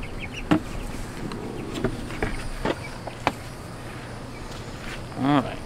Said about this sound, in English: Alright, chickens on the loose.